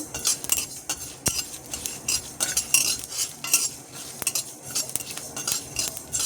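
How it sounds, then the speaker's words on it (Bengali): Spices for a raw mango pickle fry slowly in a pan while a metal spoon stirs them, giving intermittent scrapes and sharp clinks over a faint sizzle, with no talking. "এই কারণে আমি এটাকে আস্তে আস্তে করে ভেজে নেব"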